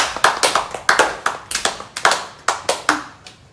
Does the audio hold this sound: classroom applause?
yes